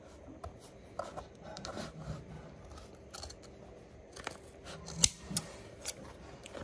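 Blade cutting stitches on old Frye leather boots: quiet, close snipping and scraping with small ticks and a couple of sharper clicks, faint and irregular, no talking.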